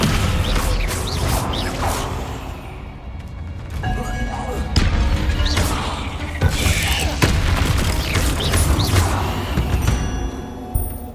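The Descendo spell in the Hogwarts Legacy video game slams objects down, heard as a dense run of booms, crashes and mechanical clatter over a constant game backdrop, with voices talking.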